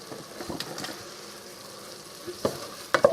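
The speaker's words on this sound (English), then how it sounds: "I'm going to get it mixed up" Stroganoff ingredients with about a teaspoon of salt being stirred in a pan, soft scraping and faint sizzle under quiet background, with a few louder clinks near the end.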